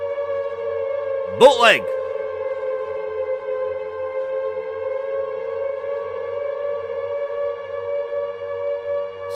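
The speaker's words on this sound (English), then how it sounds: "Get the sirens out there." A siren effect sounds as a sustained, steady wailing tone that holds throughout, with a quick rising sweep near the start as a single spoken word cuts in over it.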